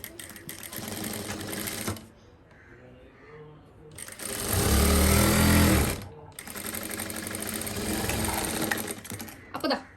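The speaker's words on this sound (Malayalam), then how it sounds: "അതായത് ഈ ഭാഗം വെച്ചിട്ടൊന്ന് തയ്ച്ചു കൊടുക്കാം." Sewing machine stitching the side of a fabric mask, loud close mechanical whirring in three bursts with brief quiet gaps between them, the middle run heavier and deeper.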